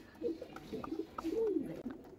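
A pet pigeon, a prized male bird, coos close by in a series of soft, throaty, rolling calls, with a longer drawn-out coo near the end and no talking over it.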